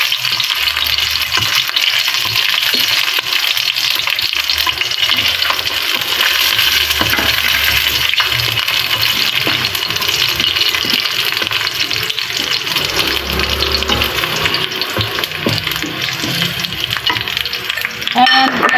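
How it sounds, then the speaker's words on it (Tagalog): Garlic frying in oil for a Taiwanese-style pork stew, a loud, dense, continuous sizzle heard up close that holds steady throughout, with no voices. "Ayan, maglagay na tayo ng bawang sa ating oil."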